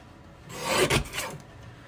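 A strip of card paper is cut in a single quick rasping stroke, a short close scratchy swell that rises and fades within about a second.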